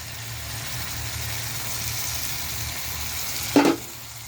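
Tomatoes and peppers frying in a pan for shakshuka give a steady, even sizzle over a low background hum, with a short louder burst of spitting near the end.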